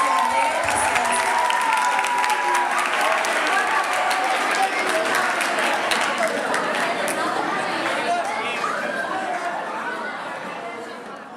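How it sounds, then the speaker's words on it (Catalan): Audience applause for teachers at a secondary school end-of-year graduation, loud and close, mixed with crowd chatter and cheering, fading gradually toward the end. "Un aplaudiment per ells, per la seva dedicació, entrega i paciència."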